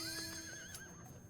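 A horse whinnies in a video game, a single close, clear neigh with a falling pitch, heard alone with no talk.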